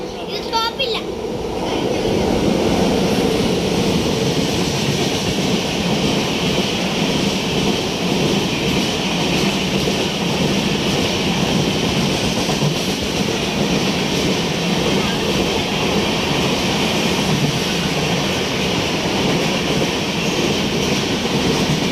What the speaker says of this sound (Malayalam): അപ്പോൾ കുറേ ട്രെയിൻ പോകുന്നുണ്ട്. ആ ട്രെയിൻ പോകുന്ന വിഷ്വൽസാണ്.